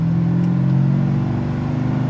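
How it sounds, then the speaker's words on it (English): A 1971 Plymouth Duster muscle car engine idles close by, a steady, loud low rumble with an even, slightly lumpy pulse and no voices over it. "You can hear that idle."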